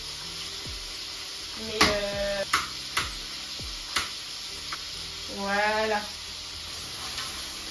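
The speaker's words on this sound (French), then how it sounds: "Vous savez quand l'huile elle surchauffe là, c'est ça" Oil sizzling in a pan while turkey brochettes fry, a steady close crackle with stirring clinks and scrapes, someone speaking briefly over it.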